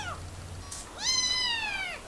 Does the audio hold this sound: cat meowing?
yes